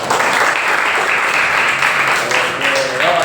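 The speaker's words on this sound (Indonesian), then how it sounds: "aplaus dulu untuk teman kita" A classroom of students claps for a classmate, a dense burst of applause that stays loud and close for a few seconds, with faint voices mixed in.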